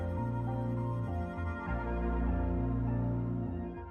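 A Minecraft game soundtrack piece, a dense, loud synth passage with a mournful funeral-horn-like lead line over sustained low chords, continuous and without speech.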